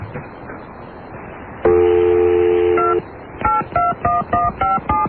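Telephone keypad dialing a prank caller's number: a steady held tone first, then a quick run of about eight separate dual-tone beeps in an even rhythm, loud and close with no talking.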